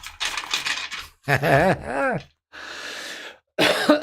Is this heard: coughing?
yes